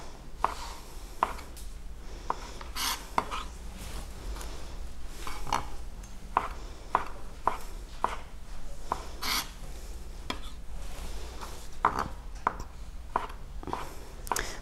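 Vegetables for a salad are sliced with a knife on a board, giving a quiet, irregular series of sharp chops and scrapes over low background noise.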